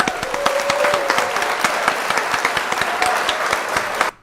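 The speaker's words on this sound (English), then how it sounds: "we'll give him the real clap too" Sustained applause from a group clapping for a man named Joe: dense, fast, overlapping claps at steady loudness, cutting off abruptly just before the end.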